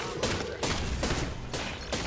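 Rapid bursts of gunfire in the Apex Legends battle royale video game, with several sharp, closely spaced shots repeating at a steady rhythm, loud and near, with no talk over them.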